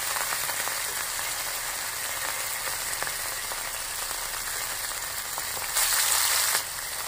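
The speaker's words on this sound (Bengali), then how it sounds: "কড়াইতে একবারে ফ্রাই করা হচ্ছে না, ওই জন্য বারবার করে আমরা মাছের পিসগুলিকে ফ্রাই করে নিচ্ছি।" Large katla fish pieces fry in oil in a wok, giving a steady, close sizzle that swells briefly louder toward the end.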